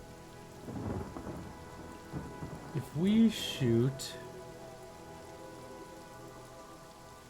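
Steady rain falls in a fantasy role-playing game, Divinity: Original Sin, a soft continuous wash throughout with brief combat or spell bursts near the middle and someone talking over it briefly.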